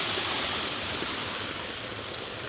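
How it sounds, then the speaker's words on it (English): A waterfall on a hiking trail in Bellinzona, Switzerland, gives a steady, dense hiss of rushing water, constant and fairly close, with no voices over it. "We're at the waterfall."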